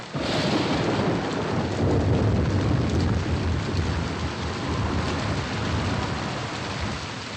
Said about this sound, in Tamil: ரொம்ப மழை பெய்யுது